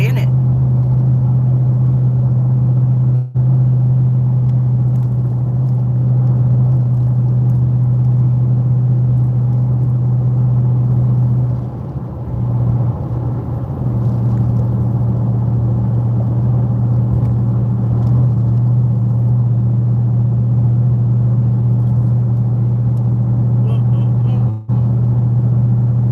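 A car driving along a road at steady speed, its engine and tyre rumble a loud, constant low drone throughout, with a brief dip partway through and a couple of sharp knocks.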